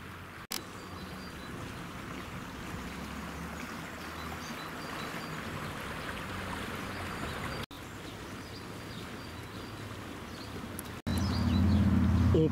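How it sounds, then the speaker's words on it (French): A small stream babbles steadily beside a walking path in Dijon, Côte d'Or, its continuous rushing wash heard close by, briefly interrupted by cuts and swelling louder with a low rumble near the end. "Le petit ruisseau clapote à côté de la promenade."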